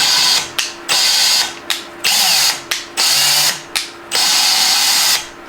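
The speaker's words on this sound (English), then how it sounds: "So you can see how it's grinding that little seat." Hand-spun valve lapping on a Ford 7.3 Powerstroke cylinder head, the valve twisted back and forth against its seat: repeated gritty rasping strokes, about eight in quick rhythm with brief gaps, close and fairly loud with no talk.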